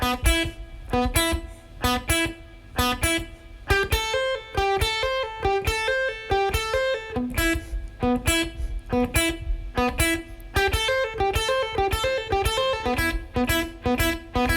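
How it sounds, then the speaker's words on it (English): A fast, repeating guitar lick of smooth legato hammer-ons and pull-offs cycling over and over, played steadily and fairly loud with no talking. "it's mostly hammer-ons and pull-offs"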